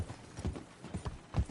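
Horse hooves clip-clopping in Red Dead Redemption 2, a steady trotting rhythm of close, fairly loud hoof beats with no talk over them.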